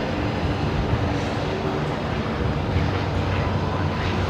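A Saab aircraft approaches Brisbane Airport at night, a steady, broad engine roar holding at an even, moderate level from start to finish, with no voices over it.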